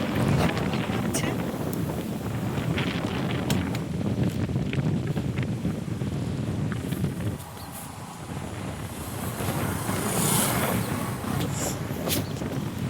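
Wind sweeps across an open field and buffets the microphone in a loud, steady roar that dips briefly midway before gusting back up.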